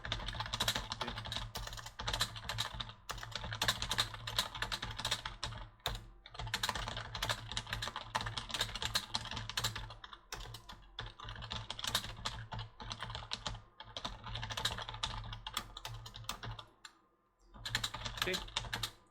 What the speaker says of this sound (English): I'm just typing as well in case my mic cuts out.